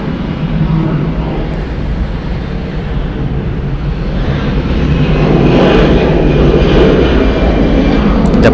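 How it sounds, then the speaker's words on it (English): A 20-year-old Delta Airlines Boeing 757-300 jet departs from the north side of Atlanta Hartsfield-Jackson airport, its engines a steady broadband roar that builds slightly louder toward the end. "Departing here on the north side, Delta Airlines Flight 774 going to Seattle. It's a Boeing 757-300, 20 years old."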